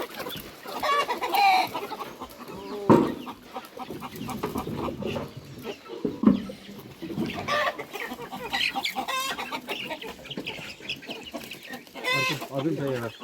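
Chickens and small chicks cluck around a rural Nepali home near a temple, with repeated close clucks and peeps scattered through the scene and people talking intermittently nearby.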